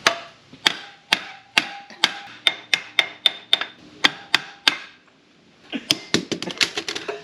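A hammer lands a run of sharp, evenly spaced blows, about a dozen in a row, then pauses briefly before a quicker, denser cluster of strikes close by.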